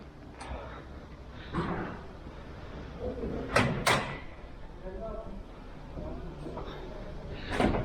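Several sharp clicks and thuds of a Trabant car door being worked and opened, close by, with people talking throughout.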